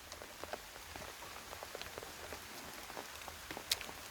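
Rain falls steadily, a soft even patter of drops on surfaces with scattered louder individual drips, fairly quiet and without voices.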